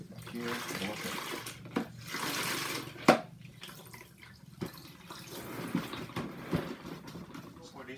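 Water splashes and drips as a centrifugal spin mop is wetted in its bucket, with intermittent sloshes and sharp knocks under a person talking nearby.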